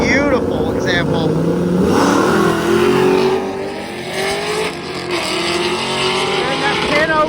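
A drag race car in the 10.0 class making its pass at the strip, a loud, sustained engine roar with rising revs, heard under someone talking over it.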